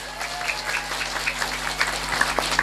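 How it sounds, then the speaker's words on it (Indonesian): Brief applause from the audience at a Javanese-language religious gathering, a short burst of close, scattered clapping over a steady background hum. "saya minta tepuk tangan dulu dong"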